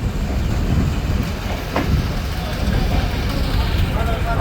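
A commuter train pulls away from platform two at Rohanpur railway station, a steady rumble and faint clatter of the cars carrying on at moderate loudness throughout.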